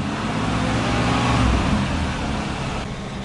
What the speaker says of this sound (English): So this engine runs so good and smooth.